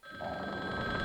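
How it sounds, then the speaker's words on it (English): A telephone rings in Resident Evil: Survivor on PlayStation, a steady electronic tone that starts abruptly and holds evenly over a low game ambience. "We're not going to answer the phone"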